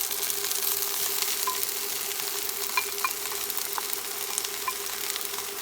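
Mushrooms sizzle steadily in a hot pan for a pork stir fry, a continuous dense crackle with scattered sharper pops, fairly close and even throughout, with no talking.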